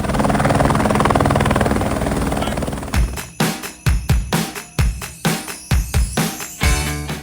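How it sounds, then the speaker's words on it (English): A helicopter flies over Chicago with a loud, steady rotor roar that holds for about three seconds, then gives way to a rhythmic series of heavy thumping beats as the blades chop past nearby. "take to the sky in a helicopter"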